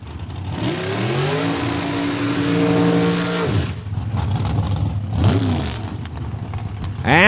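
A drag race car at Saskatchewan International Raceway revs hard while warming up its rear tires in a burnout, its engine pitch climbing and holding loudly, then another sharp rev. Faint crowd or announcer sounds come through between bursts.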